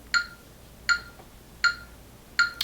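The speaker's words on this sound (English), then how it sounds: "You can set it, let's say, to 80 BPM, and it would sound like this." Four evenly spaced electronic clicks at a slow, steady 80 BPM from a metronome app, crisp and isolated against a quiet background.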